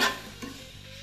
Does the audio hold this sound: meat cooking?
yes